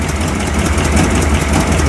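A 1957 Ford Thunderbird engine idles steadily up close, loud and even throughout, with a slight irregular miss in its rumbling rhythm and a possible exhaust manifold leak.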